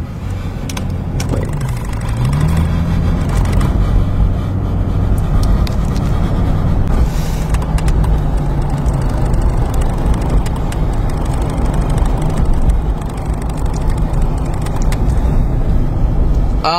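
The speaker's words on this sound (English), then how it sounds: "Traffic." Road traffic passing near Warner Center Park, a steady loud rumble of car engines with low droning tones rising and falling as vehicles go by, no talking.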